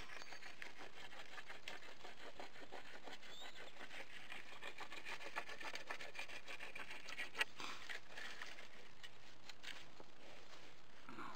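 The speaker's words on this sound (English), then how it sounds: "Now we're gonna take this rock, rub it down again real good." A rock rubbed firmly along a fire-hardened wooden spear tip gives a steady, dry scraping and rasping that runs continuously at close range, with no talking over it.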